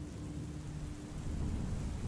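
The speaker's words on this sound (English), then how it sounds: "the sound of distant thunder told me things were about to get rough" Thunder and heavy rain as a storm effect: a steady, dense wash of rainfall with a low, distant rumble of thunder rolling underneath, fairly quiet and continuous throughout.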